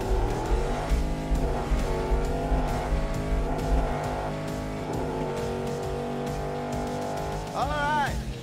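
Two twin-turbo street race cars run side by side on an airport strip, engines roaring and revving loudly with gear shifts. A tire squeal rises near the end, and the sound carries no talk.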